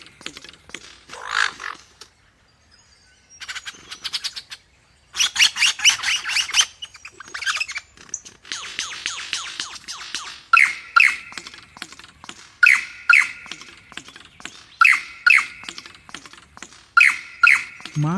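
A superb lyrebird mimics surrounding sounds, putting out rapid mechanical clicks and chattering bursts like shutters and machinery, followed by a steady series of sharp repeated calls in a regular rhythm, fairly close and clear.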